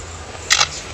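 A lyrebird imitates a camera shutter, giving a quick double click, crisp and near, over faint background hiss.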